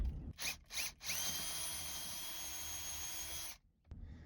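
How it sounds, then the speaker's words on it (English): A power drill whirs steadily for a couple of seconds after a few short bursts, then cuts off abruptly as the bit snaps, close and loud, drilling on a 1977 Honda CVCC car. "let me go get that stuff and we'll get to drilling"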